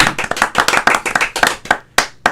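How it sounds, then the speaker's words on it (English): An audience at a live comedy show claps hard and slowly, sharp hand claps in an uneven, deliberate rhythm with a brief pause near the end before a final few claps. "But it was a hard slow clap"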